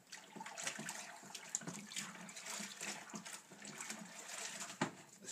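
Cold water pours steadily into a brewing bucket being topped up toward the 40 pint mark, a continuous hissing, gurgling rush at moderate distance with no talking.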